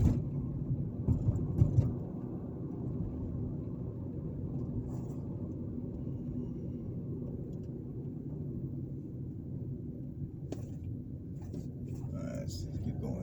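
A car drives along an open road past open land in Clanton, Alabama, its steady low engine and tire rumble continuous throughout, slightly louder in the first two seconds, with faint talking in the background.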